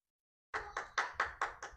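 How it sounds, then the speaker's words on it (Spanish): A small group claps in six distinct, evenly spaced bursts after a moment of silence, close and fairly loud with no voices over it. "Aplauso."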